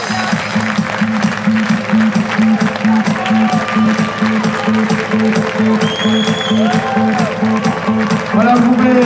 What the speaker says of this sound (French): Voilà, vous pouvez applaudir